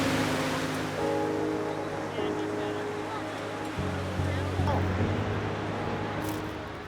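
Ocean surf washing onto a beach where people play in the water, a steady broad rush of waves with voices and tonal sounds layered over it throughout.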